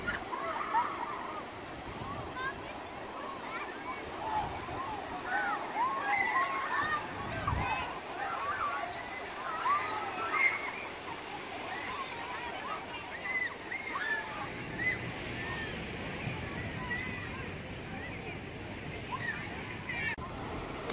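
Waves and sloshing water at La Jolla Cove on the California coast, a steady broadband wash of surf that rises and falls without pause for about twenty seconds, heard from nearby at moderate level.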